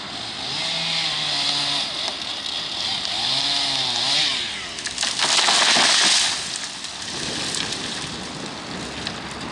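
A chainsaw cuts trees being felled to make way for bridge construction. The saw is loud and continuous, with its pitch rising and falling as it works. Crackling, crashing wood joins in midway, likely a trunk splintering as it comes down.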